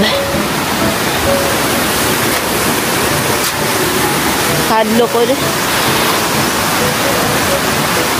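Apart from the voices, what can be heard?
Kawa-Kawa Falls waterfall rushing water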